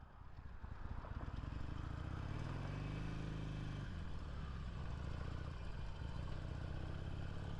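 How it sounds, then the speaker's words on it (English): A motorcycle engine runs steadily close by, its low droning note rising and falling briefly in the middle, loud and continuous throughout with no talk over it. "I love the motorcycle."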